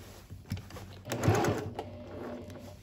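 A sewing machine runs in short bursts while stitching fabric for a placemat carrier, its motor whirring up and down with a few clicks, close and moderately loud with no talk.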